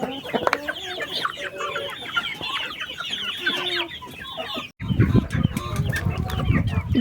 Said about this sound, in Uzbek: İki yarım oylik jo'jalar.